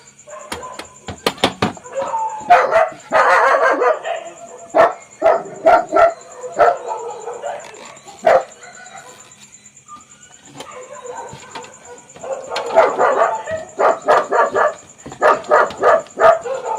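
Several dogs bark in repeated bursts at close to mid distance, with yips and a faint whimper between volleys, a lull in the middle and a steady high electronic whine running throughout.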